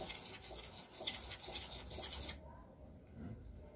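The flat side of a luthier's blade is rubbed across a sharpening stone in a few gritty, rasping strokes. The scraping stops abruptly partway through, leaving a quiet room.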